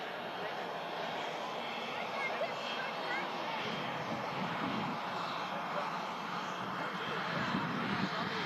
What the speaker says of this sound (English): taxiing in front of us here at the RVP is the excellent Cessna that came in before